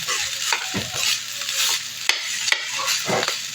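String beans cook down in adobo in a pan with a soft continuous sizzle, broken by several distinct stirring scrapes and clacks of a utensil against the pan.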